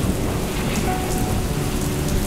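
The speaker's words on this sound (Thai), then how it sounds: "ฝนตกหนักขนาดนี้" Heavy rain pours down steadily in a dense, loud hiss, with low thunder rumbling underneath throughout a storm scene, and no voices.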